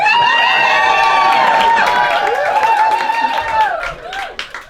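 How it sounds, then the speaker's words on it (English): Audience at a stand-up comedy show in Bristol cheering and whooping together, a loud mixed crowd roar that holds for several seconds and then thins out toward the end. "Cheer for a moment."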